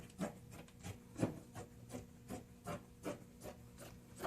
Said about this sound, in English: cut down the sides of the t-shirt so we can open it up